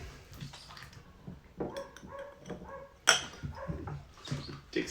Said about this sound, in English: out there barking at our neighbors